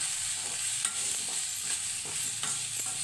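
Spices and garam masala being stirred in a sizzling pan for a hotel-style paneer curry, a soft continuous frying hiss with intermittent scraping strokes of the spoon, close and steady.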